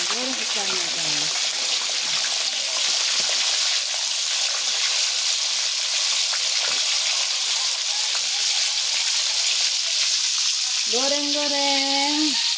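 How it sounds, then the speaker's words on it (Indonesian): Skipjack tuna fries in a hot pan with loud, continuous oily sizzling and crackling. A voice speaks briefly at the start and again near the end. "Goreng ikannya"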